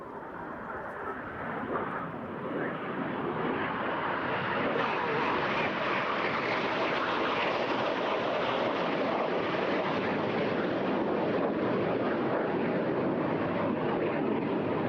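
A display jet at a seaside airshow swells from a distant hiss into a loud, sustained broadband roar as it dives low and fast, the rushing noise holding steady for many seconds.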